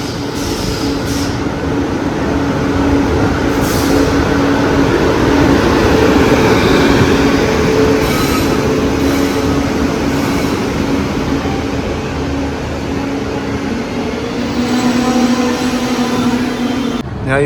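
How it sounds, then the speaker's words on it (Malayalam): The Kerala Superfast Express rolling into Palakkad Junction, a loud sustained rumble of wheels and carriages with a steady drone and brief higher rattles, close by and continuous with no talk. "Kerala super fast again on ടൈമിന് വന്നുകൊണ്ടിരിക്കുകയാണ് പാലക്കാട് ജംഗ്ഷൻ"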